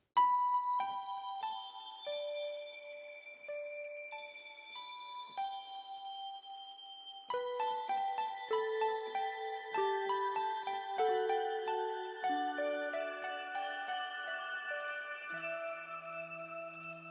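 Bright Roland D50-style bell synth patch played in Keyscape, a run of chiming bell tones with sparkling overtones, first sparse single notes, then a fuller cascade of layered ringing chords that sustain and overlap, loud and alone.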